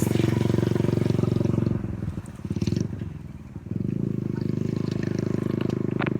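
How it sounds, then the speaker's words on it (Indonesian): A motorcycle passes close by with a loud, buzzing engine drone that dips and flutters briefly midway, then returns to a steady pulsing roar. "Nah ini ada motor guys, lewat guys satu."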